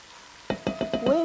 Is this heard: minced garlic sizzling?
yes